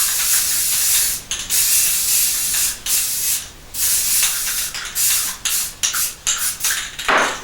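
Spray primer hisses from a can onto model pieces in a series of close, loud bursts of varying length separated by short gaps, with no talk.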